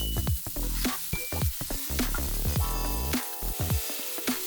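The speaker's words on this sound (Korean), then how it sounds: "마늘의 색이 약간 변하면 양파를 넣고 양파가 반투명해질 때까지 볶아줍니다." Garlic and onion fry in olive oil in a pan for a rose risotto, giving a steady close sizzle broken by intermittent stirring scrapes and clinks, with no voices.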